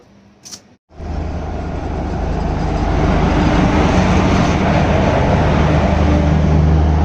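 Train 18551 Kirandul Express on the Visakhapatnam route rumbles along after a brief quiet moment, the noise swelling into a loud, steady roar of wheels and carriage rattle that stays close and constant.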